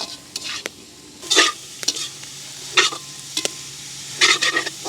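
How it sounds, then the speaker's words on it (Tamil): Sliced carrots and leeks are stir-fried for pittu kottu, a soft sizzle under repeated scraping strokes of a spatula against the pan, with sharp metallic taps in an uneven rhythm and no talking. "அடுத்ததாக வந்து வட்டி வச்சிருக்கிற கேரட்டையும் லீக்ஸையும் சேர்க்க போகிறோம் அப்படியே நல்ல வடிவாக பிரட்டி விடணும்"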